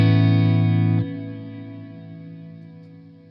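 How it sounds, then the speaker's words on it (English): An electric guitar chord rings through a Mooer R7 reverb pedal, then cuts abruptly as the pedal switches off, leaving a sustained reverb trail that slowly decays, with no voices. "if I play it now and then turn the pedal off, the reverb will continue until the reverb decays"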